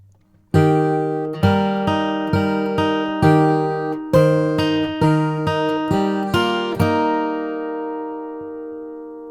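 An acoustic guitar plays a bluegrass measure using hybrid picking, with about a dozen crisp, evenly spaced notes, close and clear, ending in a ringing decay.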